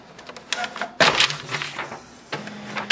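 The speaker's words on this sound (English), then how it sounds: "So we can see there is a paper stuck inside. So we'll just try to pull it out from here." Jammed paper is tugged out of an open HP LaserJet Pro M118–M206 series printer: scattered clicks and plastic knocks, then a sharp rustling scrape as the sheet comes free, with a few more clatters afterward.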